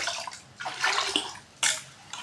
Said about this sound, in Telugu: అలాగే వాటర్ వేసుకున్నాం కొన్ని